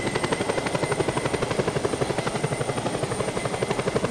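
Helicopter flying in the Just Cause 2 video game, a loud steady rotor chop with rapid even pulses and a constant high whine, heard alone.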